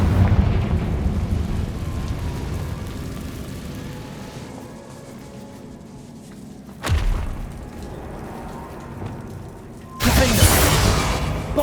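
A Confringo fire spell blasts in Hogwarts Legacy with a heavy rumbling boom that fades away, followed by sharp, bright bursts of impact and crackle near the end.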